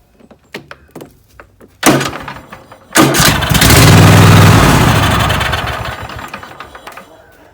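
A Cub Cadet XT1 lawn tractor fitted with a new starter cranks and catches. A few light knocks come first, then two sharp cranking bursts, and the engine fires into a loud, steady run that slowly settles.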